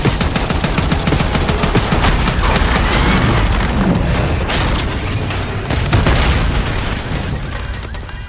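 Heavy gunfire and explosions in a Call of Duty Black Ops 6 cutscene, with rapid automatic bursts and booming blasts layered into a continuous, loud battle din that barely lets up.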